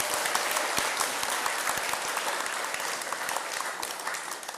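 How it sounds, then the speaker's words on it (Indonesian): An audience applauds steadily through a talk on the Bhima and Duryodhana epic, a dense, continuous wash of many hands clapping at even loudness with no voices. "Tepuk tangan dong."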